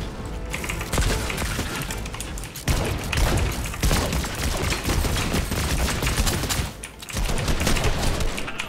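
Rapid full-auto bursts from a charge rifle in Fortnite, loud and close, firing in long sustained runs broken by two short pauses, with no talk over it.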